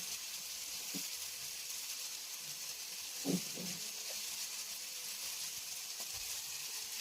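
Squid for adobong pusit frying in a pan until golden brown, giving a steady soft sizzle throughout with a few faint pops and a brief clink near the middle.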